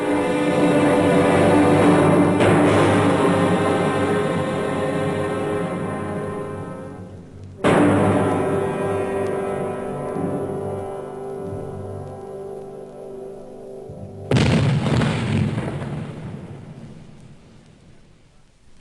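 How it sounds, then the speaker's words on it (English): Three deep cannon booms from the Chateau d'If sound several seconds apart, each rolling away into a long, slowly fading rumble; no voices. "That was the cannon on the Chateau d'If."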